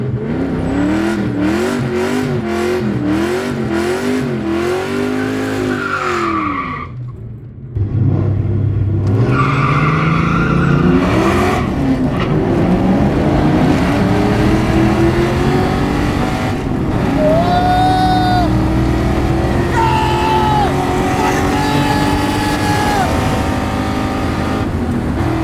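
A Ford Mustang GT races a car running a minivan engine, with loud engines revving and climbing through gears, a short drop in sound, then sustained high-revving engine noise with tire squeal.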